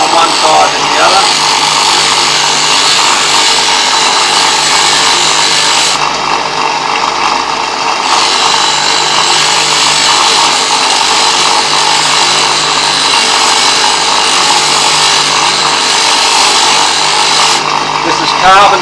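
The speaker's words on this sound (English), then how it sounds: "I've just got to do a little bit more grinding on one side than the other" A carbon steel plane blade grinds on a power grinder in a loud, continuous harsh rasp that briefly drops away twice before resuming.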